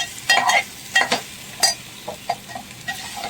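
Masala for a black chickpea curry being stirred and sautéed in a pan, with a few short scraping stirs and a light sizzle in bursts, close and clear, no talking.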